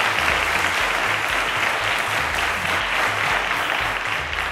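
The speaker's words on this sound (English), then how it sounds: "A round of applause to Mahmud." A studio audience at a televised school quiz competition applauds a contestant, loud dense clapping that holds steady throughout, with a low rhythmic hum or music beneath it.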